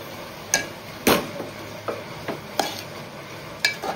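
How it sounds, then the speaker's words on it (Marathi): Fenugreek leaves with garlic stirred with salt in a pan, giving a series of distinct scraping, tapping spoon strokes against the pan at an irregular rhythm, fairly close, with faint sizzling underneath and no talk. "मीठ टाकूया आणि भाजी व्यवस्थित मिक्स करून घेऊया।"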